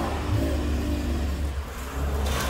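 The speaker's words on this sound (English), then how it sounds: "Our 2012 Chevy Camaro has been sold. And the Camaro leaves." A 2012 Chevy Camaro pulls away, its engine a steady mid-low rumble that fades slightly as the car leaves, with no talking over it.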